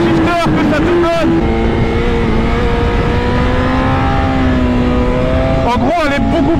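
A tuned 240 hp 2023 BMW S1000RR motorcycle engine drones loudly at speed, with sharp bursts at quickshifter gear changes near the start and end, and a voice talks over it.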